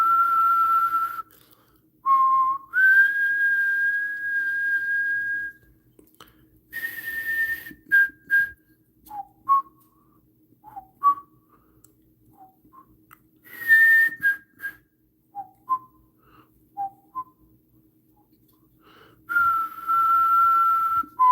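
A person whistles a tune close to the microphone: long held notes and short chirpy phrases separated by pauses, clear and moderately loud over a quiet background hum.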